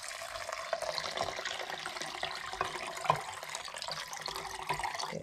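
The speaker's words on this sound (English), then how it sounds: "I'm gonna pour my water" Water pouring into a blender holding almonds while making homemade almond milk, a continuous splashing, gurgling stream close by, steady and moderately loud with a few brief louder splashes.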